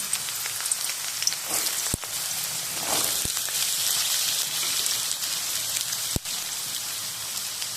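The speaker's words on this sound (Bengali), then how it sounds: "তেলটা গরম হয়ে গেছে, আলুগুলো দিয়ে দেবো।" Potatoes dropped into hot mustard oil fry with a soft, even crackling sizzle like light rain, broken by a few sharp clicks and taps.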